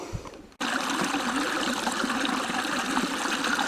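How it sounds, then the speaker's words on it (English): After a brief quiet start, steady close suction gurgle of a sucker bulb drawing water and gravelly material out of bedrock crevices while gold prospecting, continuous and fairly loud. "Let me go ahead and suck up this other material, other gold"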